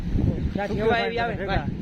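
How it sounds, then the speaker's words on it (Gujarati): Strong wind at the seashore buffets the microphone with a constant low roar while a person talks over it outdoors. "બહુ દાઠી હવા આવે છે"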